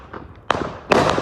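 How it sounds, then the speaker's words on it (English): Fourth of July fireworks explode in two sharp, loud bursts about half a second apart, each followed by a crackling decay, with a faint pop before them. "Look at these fireworks!"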